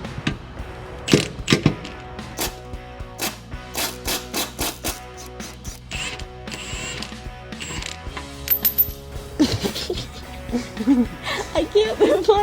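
A socket ratchet clicks in quick bursts on 16 mm or 5/8-inch bolts under a truck, loud and near, with metallic clanks between runs and people talking and laughing over it.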